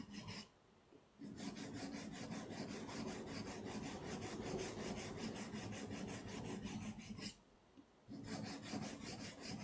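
A blade scrapes over a medium sharpening stone with very light pressure in a steady, close, quiet rasping stroke, pausing twice briefly.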